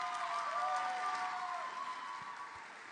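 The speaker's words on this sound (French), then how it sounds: "Un bon applaudissement." Audience applauding at a company presentation evening, a steady round of clapping through the room with some faint voices and cheers mixed in, tapering slightly toward the end.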